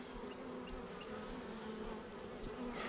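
Honeybees buzz around an opened hive while a honey super is being added, a dense, steady swarm drone that stays fairly close but soft, with individual bees briefly passing nearer.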